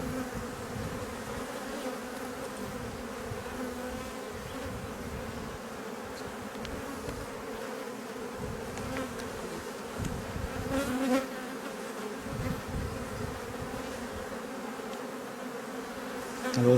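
Honey bees buzz steadily around a beehive, a continuous droning hum from many insects at close range, fairly quiet and without any talking.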